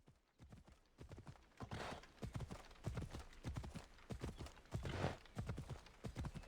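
Hooves of a hellish Inferno horse clip-clop at a steady gallop in the video game Assassin's Creed Odyssey, a quick even rhythm of close, fairly soft hoof strikes over a light background with no talk.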